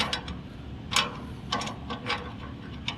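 Output stop lever being moved on a Lely turf spreader with its feed ring closed and wing screw loosened: a handful of sharp metallic clicks and ratcheting ticks at close range, spaced irregularly over low background noise.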